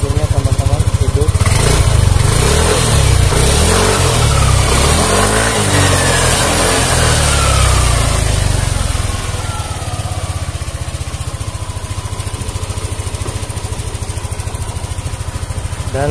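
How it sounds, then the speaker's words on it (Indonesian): A Yamaha Aerox scooter engine runs steadily after starting, a loud close mechanical chatter that drops slightly in level partway through as it settles toward idle. "kita coba langsung hidupkan double starter."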